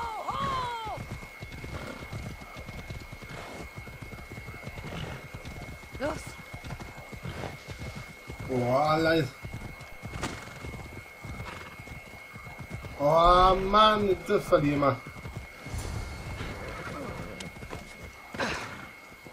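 Horse hooves clip-clopping at a gallop during a race in the video game Assassin's Creed Odyssey, a rapid steady beat with loud whinnies and neighs rising twice, while someone talks over it.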